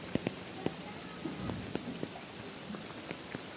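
Rain falls steadily on surfaces outdoors, a soft wash of hiss with scattered sharp drop taps, fairly faint and close, with no voices.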